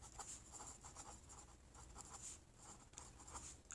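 Handwritten notes being jotted down, with soft, close scratching strokes of a pen on paper coming in short repeated bursts, quiet and without voices.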